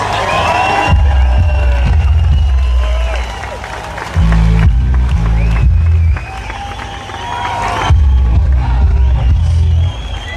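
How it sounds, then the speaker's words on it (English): Outdoor rally crowd at a March for Australia Day event in Queensland cheering, whooping and applauding loudly, in surging waves with low booming bursts throughout. "Give the man a round of applause, here he is."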